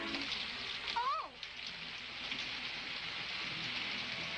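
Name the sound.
rain falling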